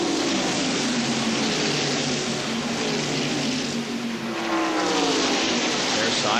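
Stock cars at the 1993 Winston 500 roar as one dense, loud wall of engine noise while running side by side into turn one, with a rising pass-by sweep near the end and a commentator talking over it.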